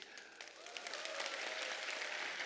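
A church audience bursts into applause during a lecture, sparse claps at first swelling into a steady, full round of clapping from a crowd.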